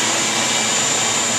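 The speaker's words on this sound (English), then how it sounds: "turn the vacuum on" A shop vacuum running on a woodworking drum sander setup, a steady close whooshing roar with a high whine, continuous and unchanging through the short stretch.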